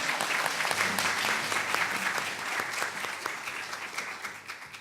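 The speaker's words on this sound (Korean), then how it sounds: "여러분 몬시뇰님을 따뜻한 박수로 모시도록 하겠습니다" Warm audience applause greets a Vatican diplomat invited to the stage at a Korean peace forum eve ceremony, a full, steady wash of many hands clapping that gradually thins toward the end.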